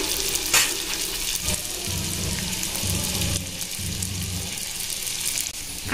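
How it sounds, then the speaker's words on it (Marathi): Fried modaks dropped into hot oil bubble and crackle in a steady, busy frying sizzle, moderately loud and close, with soft low clatter beneath and no talking. "मी अजून मोदक टाकले याच्यामध्ये तेलामध्ये"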